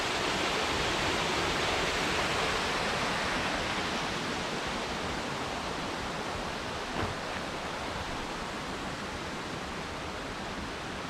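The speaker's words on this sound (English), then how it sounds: "And we got the waterfall." A creek waterfall pours in a steady, dense rush of water that holds at an even level throughout, with no voices over it.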